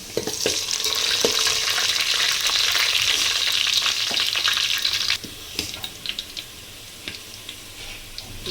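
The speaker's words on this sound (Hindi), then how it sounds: "चलिए अब हम मंदी को बघारते हैं" Oil sizzles loudly and steadily as mutton laham mandi is tempered, a dense frying hiss for about five seconds that then drops to a softer crackle with scattered pops and ticks, no voices.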